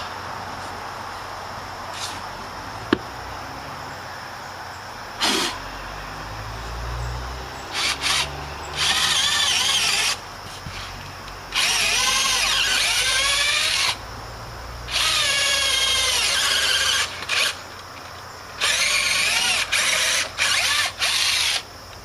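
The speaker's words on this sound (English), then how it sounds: "I'm going to drill the second hole" Power drill boring a second hole into rotted picnic table wood, with several loud bursts of whining drilling separated by pauses and handling clatter, the motor pitch rising and falling as it cuts.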